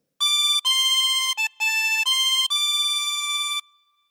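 A chromatic harmonica plays a short phrase of Auld Lang Syne: a handful of clear, reedy held notes with brief breaks between them, close and solo before fading out.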